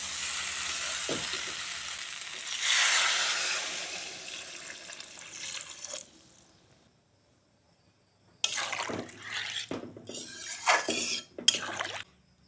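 Cauliflower and potato pieces sizzle in a frying pan and are stirred with spices, a steady hiss easing off before a pause, then bursts of scraping and stirring close by.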